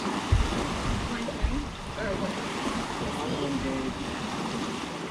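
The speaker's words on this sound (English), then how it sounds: "we are officially under wind power alone" A sailboat sails under wind power alone at sea in light wind, with a constant wash of wind and water rushing past the hull, a couple of dull thumps early on, and faint voices in the background.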